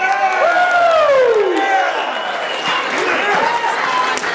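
Wedding guests cheer and whoop after a toast to a newlywed couple, a loud sustained crowd roar with rising and falling shouts and whistling voices throughout.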